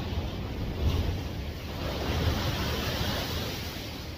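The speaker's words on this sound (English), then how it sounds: "some big swells still" Big swells rolling onto a rough shore at high tide, a steady broad wash of surf with wind noise across the microphone, the surge rising and easing in slow waves with no voices.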